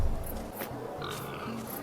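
A pig grunts and oinks in the video game Drug Dealer Simulator 2, with a few soft, short grunts scattered over a low background of ambient game sound.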